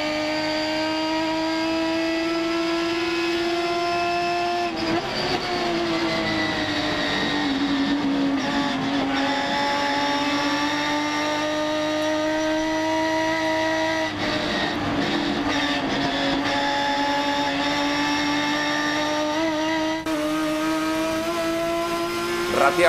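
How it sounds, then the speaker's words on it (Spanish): Top Race touring car engines at speed on track during a race, one car's engine misfiring, a steady loud harmonic drone with pitch sweeps as cars pass, under continuous commentary. "Rateaba el motor de Josito, aprovechaba Ciarrochi."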